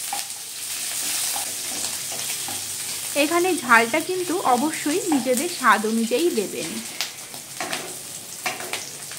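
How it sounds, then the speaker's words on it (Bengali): Cumin, ginger paste and slit green chillies fry in mustard oil in a pan, giving a steady sizzle with stirring scrapes underneath a voice as she talks. "এবারে সব কিছুকে 1-2 মিনিটের জন্য নেড়ে চেড়ে নিয়ে ভেজে নেব"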